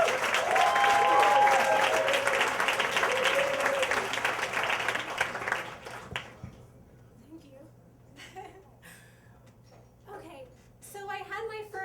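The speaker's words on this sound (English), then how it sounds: "Keep the applause going for Sarah Sixt." A crowd at a storytelling slam applauds loudly for several seconds, the dense clapping dying away after about six seconds, followed by a lone voice speaking in a quieter room.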